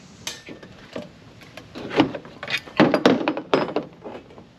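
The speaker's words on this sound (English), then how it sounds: "Take a lock nut and a washer and throw it on this side and tighten them down." A lock nut and washer being fitted and tightened onto a bolt while installing a Green Touch Industries truck rail system. Close, sharp metallic clinks and rattles come in irregular bursts, with a few louder knocks near the end.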